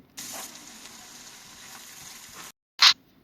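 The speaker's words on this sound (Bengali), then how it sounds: "এখন আমি একটু সময় নিয়ে এই রসুন আদা তেলের সাথে ভেজে নিব" Ginger and garlic paste frying in oil for an aubergine pickle: a steady close sizzle for about two seconds, then a pause and one short, sharp spattering burst. No talking.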